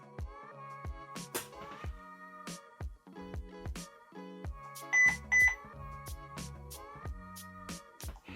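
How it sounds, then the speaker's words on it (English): A HeimVision HM203 indoor security camera gives two short, bright electronic beeps in quick succession, standing out against a background of other tonal chimes and clicks. "now the camera has scanned the code, beeped twice"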